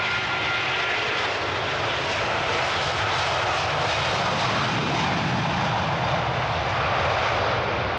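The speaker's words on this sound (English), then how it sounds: "we have got another plane taking off now" An airplane takes off nearby, heard from a quarantine hotel, as a loud, continuous aircraft engine roar. The sound holds steady for about eight seconds, with no voices over it.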